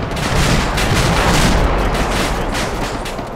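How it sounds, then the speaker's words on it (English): Sustained, dense gunfire fills a military video game battle, with AK rifle fire rolling and cracking continuously at close range and no pauses. "there's AK fire coming from fucking south"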